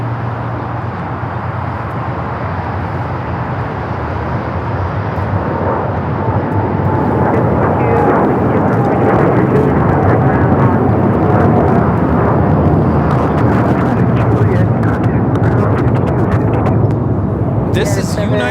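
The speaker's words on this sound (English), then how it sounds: "This is United Airlines 198 taking off to Shanghai on the 787-9 Dreamliner." A United Airlines Boeing 787-9 Dreamliner takes off, its jet engines making a loud, steady, broadband roar that holds for the whole stretch with no break.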